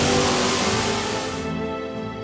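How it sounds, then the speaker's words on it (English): A Hemi V8 in a 1970 Dodge Challenger revs loud and close, its roar tapering off and dropping toward a lower idle rumble near the end. "a monster Hemi was being brought to life"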